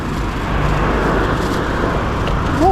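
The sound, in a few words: noisy old car driving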